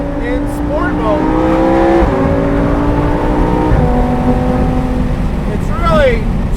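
A Lamborghini Performante Spyder engine revs hard and loud, its pitch rising and then dropping as the dual-clutch gearbox shifts, with several quick gear changes and a renewed climb near the end.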